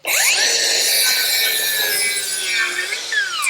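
A saw cuts through lumber for a raised garden bed, a loud steady rasping whine lasting a few seconds with a brief pitch dip near the end, heard alone without talk.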